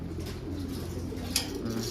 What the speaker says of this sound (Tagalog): Ayan yung mga ibon natin.